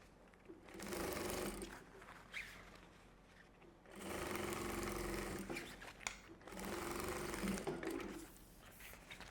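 Sewing machine stitching a mini backpack's lining to its main fabric, three bursts of rapid mechanical whirring and needle chatter separated by short pauses, close and fairly quiet.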